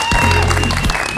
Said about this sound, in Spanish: Esto está repleto, por favor, aplaudan.